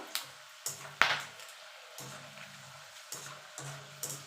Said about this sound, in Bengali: বাদামের সঙ্গে 4টে শুকনো লঙ্কা ভেজে নেব।